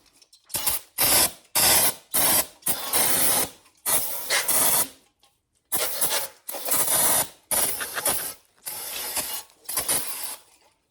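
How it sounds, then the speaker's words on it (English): Brake cleaner sprayed onto the valve cover of an NA Mazda Miata during a gasket replacement, heard as about a dozen loud, close hissing bursts of aerosol, each roughly half a second long with brief gaps between them. "I'm gonna brake clean this out just to get it nice and clean and get some of the buildup off of the edges"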